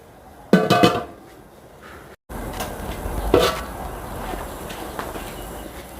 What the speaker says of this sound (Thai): แล้วก็ปิดฝาหม้อ